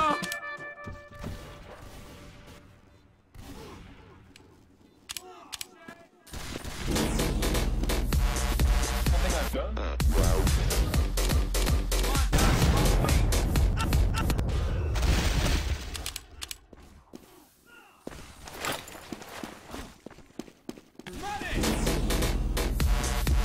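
Heavy gunfire and explosive booms in the Team Fortress 2 video game, with loud sustained volleys and impacts in long stretches, broken by brief quieter gaps and occasional game voice lines.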